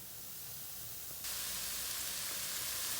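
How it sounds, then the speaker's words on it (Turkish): Onions sizzle in hot oil with a steady hiss that suddenly grows louder and brighter partway through and keeps crackling to the end. "Yağın içinde onu kavuruyorum"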